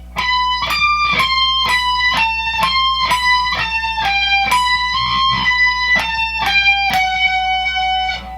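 A rapid electric guitar solo phrase rings out alone, a string of quick picked and hammered notes in steady rhythm over a faint low hum.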